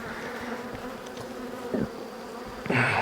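Honey bees swarm around a hot, defensive beehive, their dense buzzing close and constant, with individual bees zipping loudly past near the end.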